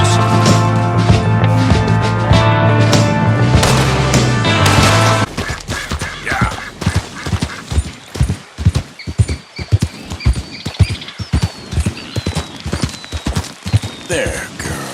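Horse hooves clip-clop in Red Dead Redemption 2, a loud galloping rhythm of sharp, close hoof hits that takes over after a stretch of music in the first third of the clip.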